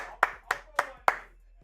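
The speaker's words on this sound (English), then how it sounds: "Clap it up." Four sharp hand claps in a steady rhythm, close and fairly loud, on a live sports stream, followed by a faint tap.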